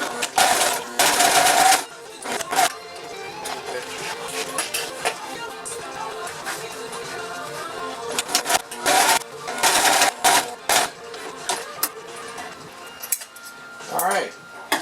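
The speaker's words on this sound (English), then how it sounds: "I'm going to sew these little panels on" A sewing machine stitches bimini canvas panels in several short loud bursts of rapid mechanical clatter, separated by quieter pauses with faint handling noise.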